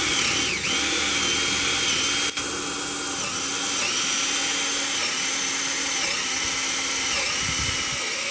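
A power drill bores holes through a wooden 4x6 post, a loud high whine running nearly continuously with brief dips and pitch sags as the bit bites into the wood.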